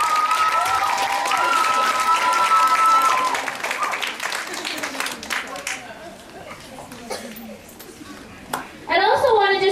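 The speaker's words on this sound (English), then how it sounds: "Let's give another big round of applause for these four students." An audience claps for four students at a school kindness event, broad applause strongest at the start and fading to scattered claps, with children's voices and a speaking voice over it.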